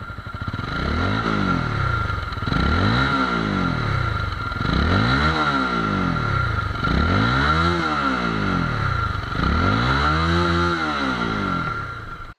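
Exhaust note of a Honda CBR 250R motorcycle: a steady, close engine drone that swells and dips in slow, regular waves for about twelve seconds, with no voices over it.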